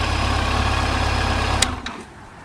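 A Yamaha FJR 1300 AE motorcycle engine idles with a steady low rumble, close and moderately loud. It cuts off near the end, with a couple of brief clicks as it dies away.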